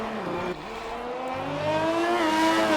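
A Ferrari race car in a racing video game revs with a rising, high-pitched engine whine that climbs steadily in pitch and loudness, heard alone without talk.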